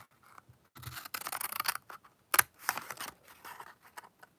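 Scissors cut paper for a folded craft, with close snipping and rustling strokes in a few bursts and a sharp clack in the middle, set against quiet with no talking.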